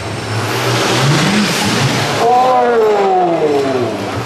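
A R.A.G Racing tuff truck revs its engine out in the open on a rocky course, a loud mid-pitched roar that rises and falls in pitch, with a crowd or commentator voice faintly underneath.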